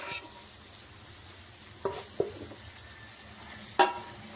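Gongura paste being stirred into chicken in a pan, soft low scraping and mixing with a few sharp clicks of a utensil against the pan over a faint background.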